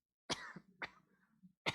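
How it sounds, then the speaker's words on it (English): A presenter at a hackathon workshop coughs three times, short close bursts spaced about half a second to a second apart, with no talk between them. "You just have to cough, like for no reason."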